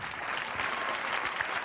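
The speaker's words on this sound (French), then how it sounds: "Je voudrais qu'on l'applaudisse très très fort." An audience claps warmly at a televised Saturday-night variety show, a dense, even burst of applause from a large crowd filling the short moment.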